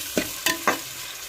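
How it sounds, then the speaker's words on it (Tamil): Onion, tomato and garlic sautéing in oil for a dried anchovy rice dish, three distinct scraping stirs of a spatula over a low, steady sizzle, close up with no talking. "துணிமலை வெங்காயம் தக்காளி வெள்ளைப்புள்ள இன்னும் கொஞ்சம் நேரம் எண்ணெயில் வதங்கி வரட்டும்"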